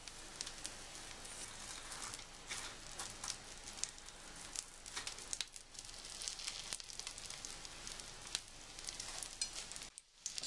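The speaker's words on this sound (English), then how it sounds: "They're both sizzling away gently" Panko-and-sesame-coated seafood fishcakes sizzle gently in a frying pan, a steady crackling hiss with small pops throughout, close and alone, briefly dipping near the end.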